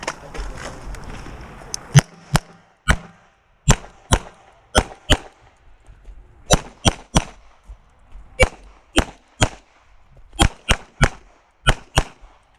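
Pistol shots at a USPSA practical shooting stage ring out sharply, about twenty in uneven pairs and clusters with brief gaps between them, loud and close with no talking.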